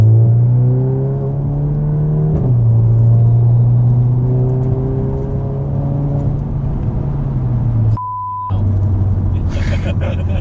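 A tuned VW Golf MK8 GTI with a Stage 2 engine pulling hard, a loud sustained rising drone heard from inside the car, with a brief dropout near the end.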